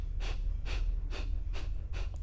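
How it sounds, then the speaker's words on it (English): Five sharp, rapid nasal exhales during a yoga breathing exercise, evenly spaced about half a second apart, close and distinct over a low steady background hum. "take that full breath in and then release in your sharp exhales"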